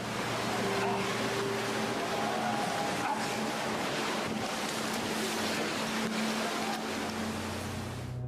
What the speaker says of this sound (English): Look at the waves coming.